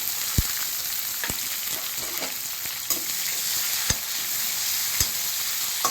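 Onions fry in a kadai with a continuous crackling sizzle, broken by several sharp knocks and scrapes of a ladle stirring them, close and loud with no speech.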